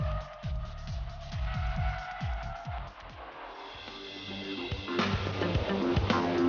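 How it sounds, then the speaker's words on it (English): A Honda car fitted with the SH-AWD all-wheel-drive system accelerates through a curve, its engine revving in repeated rising sweeps, then settling into a steadier, rougher drone. "Here, the vehicle is accelerating in a curve."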